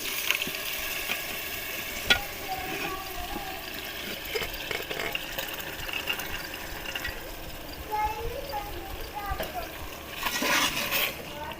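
Boiled chana dal tipped into spinach sautéed in ghee, giving a steady sizzle with wet splashes and clinks of stirring over several seconds, at moderate loudness.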